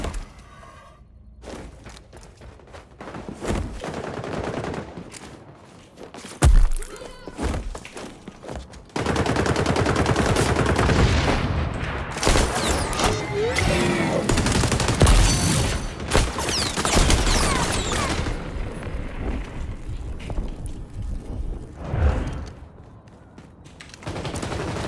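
Automatic AK rifle fire in a video game comes in dense, loud bursts and long sustained volleys, mixed with sharp impacts and other battle noise, with brief quieter gaps between the barrages.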